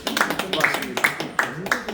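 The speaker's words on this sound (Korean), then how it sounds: "앞으로 잘해주실 걸 믿고 박수, 박수 한번 합시다." Applause from an audience at a church redevelopment and reconstruction seminar, a few sharp claps standing out over a voice still talking and a room murmur.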